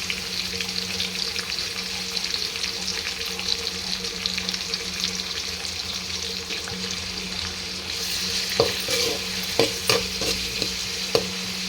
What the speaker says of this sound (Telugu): కరివేపాకు, టమాటా యాడ్ చేసుకునేది ఫ్రెండ్స్